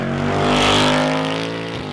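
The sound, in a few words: Ford Mustang exhaust with resonator pipe delete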